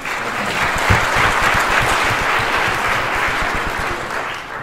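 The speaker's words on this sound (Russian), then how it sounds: "Давайте Виталию тоже похлопаем." A room of seminar attendees applauding for a man named Vitaly, a steady, full round of clapping from many hands that holds at an even level for several seconds and tails off slightly at the end.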